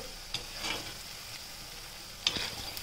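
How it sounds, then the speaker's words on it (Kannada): Shankarpoli pieces deep-fry in hot oil until browning, producing a faint, steady hiss with a couple of brief bubbling bursts and light clicks, close by and with no talking. "ಸ್ವಲ್ಪ ಬ್ರೌನ್ ಕಲರ್ ಬರೋ ಹಾಗೆ ಕರಿತೀನಿ ಇದನ್ನು"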